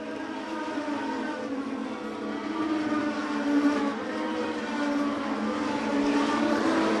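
Stock cars racing at Wiscasset Speedway, a steady layered engine drone from several cars at once, rising and falling slightly as the pack circles, continuous and moderately loud with no voices.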